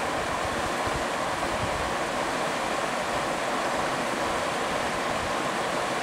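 The Torrent River rushes steadily near the John Hogan Trail, a dense, continuous close wash of flowing water with no voices, unchanging throughout.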